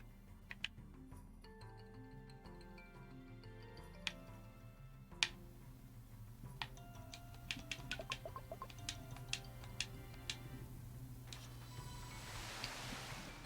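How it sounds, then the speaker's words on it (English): Rain in a Pokémon-style video game: light, steady pattering with scattered small ticks and drips, quiet and continuous, no talking. "Yay, rain. I love rain."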